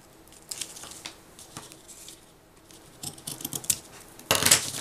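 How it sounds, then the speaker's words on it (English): Scissors snipping off excess ribbon while making a gift tag, a few light, crisp cuts and clicks at close range, ending in a louder burst of rustling. "cut off the excess parts of the ribbon"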